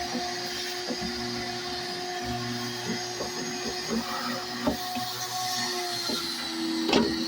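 Shop vac vacuuming ash out of a PelPro pellet stove's fire brick tray, a steady, fairly quiet motor whine with intermittent knocks and rattles as the nozzle moves inside, no talking.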